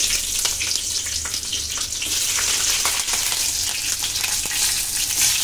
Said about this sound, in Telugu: ఇప్పుడు అందులో ఒక 3 పచ్చిమిరపకాయలను వేయండి